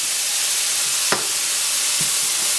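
Three garlic cloves frying in a hot pan give a steady, loud sizzle and hiss close by, with a brief sharp spatter near the start and a softer one later, no voices.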